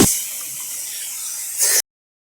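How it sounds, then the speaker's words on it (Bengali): Spice-marinated chicken pieces dropped into a hot wok with no oil, giving a bright steady hiss that flares louder at the end before cutting off. "তো এবার আমি চিকেনটা সরাসরি কড়াতে দিয়ে দেবো।"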